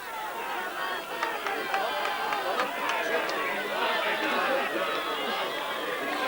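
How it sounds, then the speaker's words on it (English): Large outdoor crowd at a Gaelic football match between Donegal and Dublin at McCumhaill Park, Ballybofey, on a December day, with a steady murmur of chatter and cheering running throughout. "Large crowd now here at Sean McCool Park."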